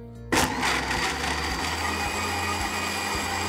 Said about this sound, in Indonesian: Masuk semua bahan potong dalam blender.